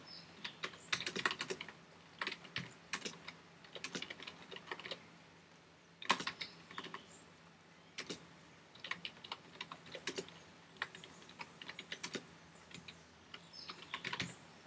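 Typing on a computer keyboard: bursts of quick, close, crisp key clicks separated by short pauses, fairly quiet and with no talking.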